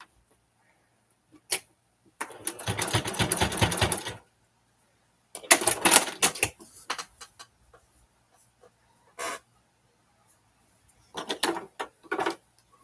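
A sewing machine runs a back stitch in three separate bursts of fast mechanical stitching, separated by quiet pauses and scattered small clicks.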